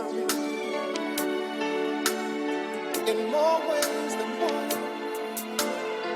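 A soul song plays as a music sample, warm sustained harmonies and vocals with light percussive hits, moderately loud and unbroken by talk.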